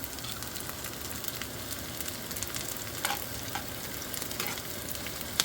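Hash browns fry in hot grease in a pan, a steady hissing sizzle with scattered small pops and crackles, close and continuous throughout.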